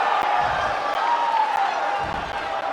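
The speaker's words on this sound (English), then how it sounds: "by the sound of this crowd, I think they're getting what they wanted" Arena crowd at a WWE NXT wrestling event cheering in a steady, dense roar with sustained pitched shouting, loud and continuous throughout.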